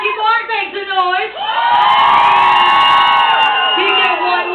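Audience whooping and yelling to vote for Marky Mark, starting with a few excited shouts and swelling after a second and a half into a loud, sustained crowd roar of cheers and screams.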